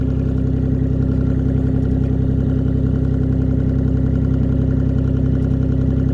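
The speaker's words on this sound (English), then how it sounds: "Let the engine run at idle for approximately 15 to 20 seconds." A standby generator engine idles steadily just after starting, a loud, even mid-pitched drone with a faint rattle, continuous and close with no talk.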